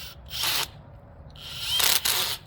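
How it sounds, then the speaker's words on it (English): Screws driven with a power drill into spacers on a zipline emergency brake: two short bursts of whirring driving, each about half a second, close and loud with a brief pause between. "So I'm going to go ahead and put the screws in on all these spacers I just installed."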